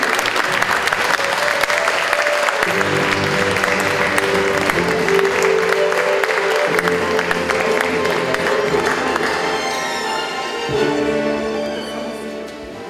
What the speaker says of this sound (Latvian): Ar smaļiem aplausiem.